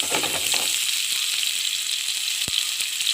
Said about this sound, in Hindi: ये देखें, ब्राउन हो चुका है हमारा लहसुन। अब इसमें जाएगा प्याज।